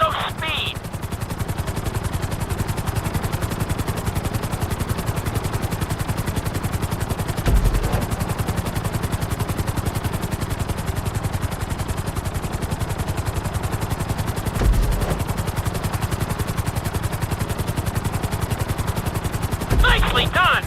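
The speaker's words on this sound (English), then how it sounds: "Let's go on a short tour of the city, and we'll see how well you handle the chopper." A helicopter in GTA V flies a marked course around the city, its rotor producing a continuous rapid chopping drone at steady volume throughout, with brief interface beeps at a few points.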